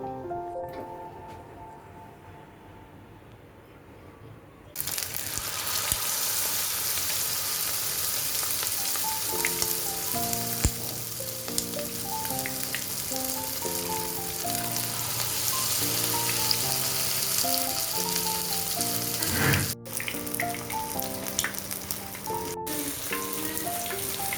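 Marinated chicken drumsticks for a sweet and tangy dish start frying in a pan, a loud, steady, crackling sizzle that bursts in after a quieter opening and continues under a light background melody.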